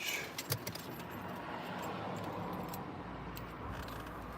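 Keys for a 2012 Opel Zafira 1.8 petrol jangle close by with a few sharp metallic clinks, then a steady low rumble of the car, with no one talking.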